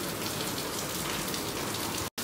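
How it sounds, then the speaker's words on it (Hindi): Continuous rain falling at night, a dense even hiss of drops on surfaces that stays steady and fairly loud throughout, with a very brief dropout near the end. "ये देखिए कंटिन्यूस बारिश हो रही है।"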